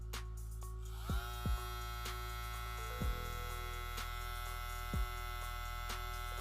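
A Bill Pro BL 600 hair clipper runs with a steady electric motor hum and buzz, shifting pitch several times as speeds are switched, punctuated by a few short thumps.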